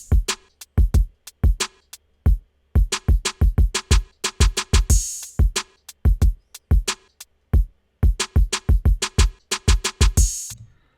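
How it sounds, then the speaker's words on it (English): A programmed drum pattern built in Ableton repeats rapid snare hits, thudding kicks and ticking hi-hats with occasional bright crashes, punchy and loud, with no voices over it. "I'm going to actually click and drag over some hi-hats,"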